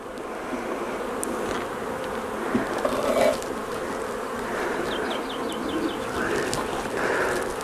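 Honeybees at an opened hive during a transfer from a nucleus box into a full hive, a dense steady buzzing close by with a few louder passes of single bees, no talk.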